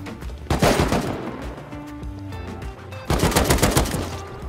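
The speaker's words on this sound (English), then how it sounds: "That's a fucking grenade launcher." Heavy gunfire from a grenade launcher in a shooter video game, with loud repeated bursts of shots and blasts, a lull of sparser pops in the middle, then a second dense volley near the end.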